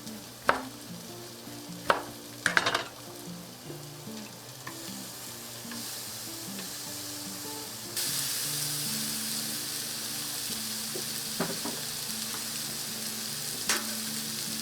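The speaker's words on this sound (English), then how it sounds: "you brush your bread on both sides and into your grilling pan" Bread and sliced lemon grill in a hot grill pan, with a quiet steady sizzle broken by a few sharp taps and scrapes, and the frying noise swelling noticeably louder partway through.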